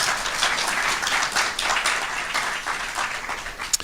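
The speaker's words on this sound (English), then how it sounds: "That's worthy of clapping." An audience at a mayor's State of the City address breaks into applause, a moderate, steady patter of many hands clapping for a few seconds.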